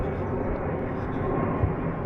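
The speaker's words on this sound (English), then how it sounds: "the odd aeroplane going over" An aeroplane passing high over a spring woodland in a London garden, a steady, distant engine rumble that holds evenly throughout.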